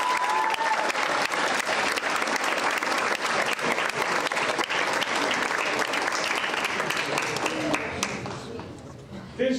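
Sustained audience applause at a senior class awards banquet, dense and steady from a large crowd, fading out near the end.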